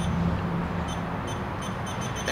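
A CO2 leak detector, checking an air conditioner that blows warm, gives a series of quick, high-pitched electronic beeps, faint against a steady background hum.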